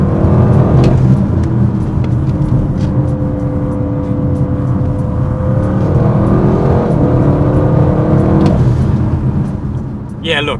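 A 2024 Audi RS 6 Performance engine pulls hard while climbing a twisty uphill road, a steady loud drone with rising harmonic tones and shifts, continuous throughout with road and wind noise.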